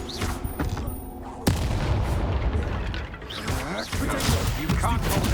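Explosive Confringo spell blasts in the video game Hogwarts Legacy, heavy booming impacts and crashing bursts over a continuous battle din, one sharp hit standing out partway through.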